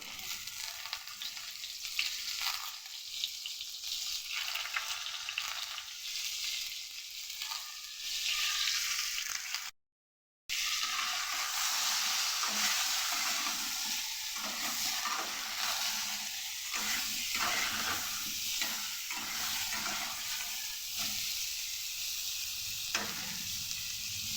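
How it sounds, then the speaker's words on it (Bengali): Potato and pointed gourd fry with salt and turmeric in a kadai, a constant close sizzle with occasional stirring, broken by a brief silent gap partway through; no one speaks. "আমার আলু আর পটলটা ভালো করে ভাজা হয়ে গেছে।"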